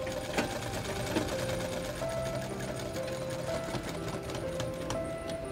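Sewing machine stitching a seam on a readymade coat during an alteration, running steadily and continuously at moderate volume throughout with a fine rapid mechanical clatter and no talking.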